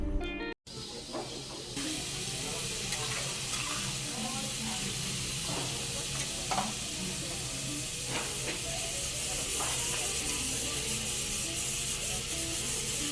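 Kobe beef sizzling on a teppanyaki grill at a restaurant in Osaka, a steady close hiss with occasional pops and crackles running throughout, with faint talk in the background.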